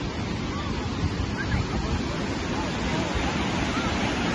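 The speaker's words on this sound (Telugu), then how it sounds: "చూడండి జలపాతం" Burney Falls in California pours through forested hills, heard as a steady, broad roar of rushing water that stays even and continuous, with some wind buffeting on the microphone.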